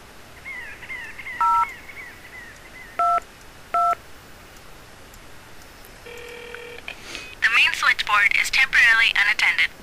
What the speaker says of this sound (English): Alright, let's try calling 911.